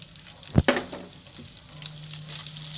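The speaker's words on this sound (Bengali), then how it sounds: "পেঁয়াজ কুচিগুলো আমরা হালকা করে ডানপালা করে ভেজে নিব।" Chopped onions frying lightly in hot oil in a pan: a sharp metallic clank of a utensil, then scraping stir strokes over a steady, close sizzle, with no talking.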